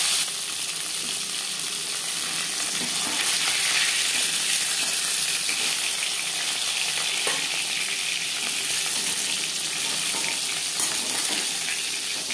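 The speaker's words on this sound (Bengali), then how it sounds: "প্রথম ব্যাচে মাছ ভাজা হয়ে গেছে" Pieces of Bhola fish frying in hot oil, giving a steady, loud, continuous sizzle with faint crackles throughout and no talking.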